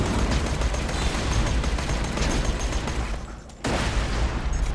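Rapid gunfire in Borderlands 2 combat at the Bright Lights Flying City, a dense, continuous burst of shots and impacts with a brief sudden drop in the middle before the firing resumes.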